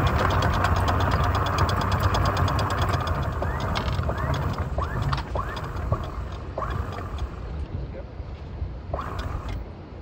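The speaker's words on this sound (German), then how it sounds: "Probier doch mal rückwärts zu tuckern." A sailboat's engine chugs in reverse at low revs with a steady knocking putter, while a voice speaks over it and light splashing and creaking come and go.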